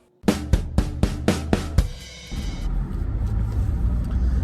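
A car drives along with a steady low rumble heard from inside, starting about halfway through after a series of sharp, evenly spaced knocks; no one speaks.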